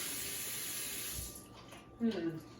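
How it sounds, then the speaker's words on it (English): Warm tap water runs from a faucet into a sink for hand washing, a steady soft broadband stream that fades partway through, with a brief faint voice near the end. "We'll get some soap and some warm water."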